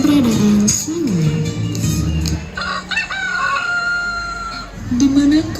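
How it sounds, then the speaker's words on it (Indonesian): A rooster crows loudly and close by, two drawn-out calls at the start and another at the end, with clucking and other fowl noises in between. "ayam itu selalu berkakak"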